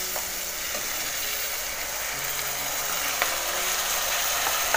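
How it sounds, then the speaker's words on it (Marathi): Onion and tomato frying in a hot pan for masoor chicken biryani, a steady broadband sizzle with occasional faint stirring clicks, continuous and fairly close throughout. "कांदा बघा लाल झाल्यावर आता आपण टॅमॅटो टाकूया"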